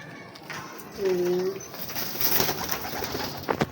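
Soft pigeon coos with low, rounded calls, a few in sequence amid outdoor background noise.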